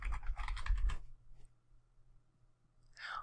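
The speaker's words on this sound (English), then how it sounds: "Let's just type in the word fitness and see what happens" Close, quick clicking of keys being typed on a computer keyboard for about a second, followed by near silence and a faint rustle.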